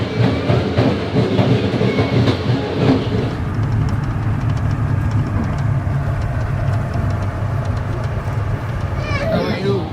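Passenger train in Pakistan rumbles along the tracks, a loud continuous low roar with rhythmic clattering and rattling carriage noise, and voices talking over it.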